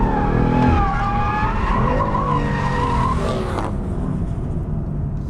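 A new 425bhp turbocharged BMW M3 with an Active M differential drifts, its rear tires shrieking in a loud, sustained squeal over engine roar for about three and a half seconds before the screech cuts off.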